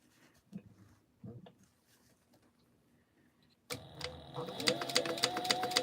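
After a few quiet handling sounds, a sewing machine starts stitching across the top of fabric, its rapid, rhythmic ticking growing steadily louder near the end.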